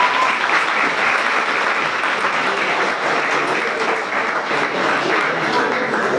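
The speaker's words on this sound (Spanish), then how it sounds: "Un aplauso, por favor." Steady applause from a crowd fills the whole stretch, dense and even clapping without pauses.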